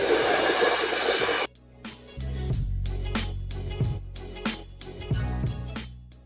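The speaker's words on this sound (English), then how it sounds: "Then take your blow dryer and go in this direction to conceal it entirely." A hair dryer roars loudly for over a second, then cuts off; afterward come softer rustling and brushing sounds with muffled thumps.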